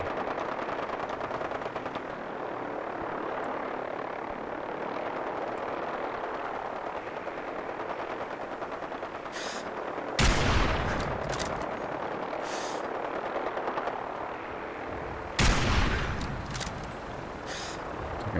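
Gunfire in the Sim Settlements 2 game with enemies in power armor: a steady rattle of shots through the clip, with two loud bursts of heavier fire standing out near the end.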